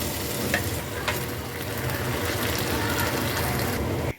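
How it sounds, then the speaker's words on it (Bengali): Close, constant sizzle of tomato and onion cooking in a hot pan, with a couple of sharp stirring clinks early on. "এবার আমি এখানে দিয়ে দিলাম টমেটো, টমেটোটা ভালো করে কষিয়ে নেব পেঁয়াজের সাথে"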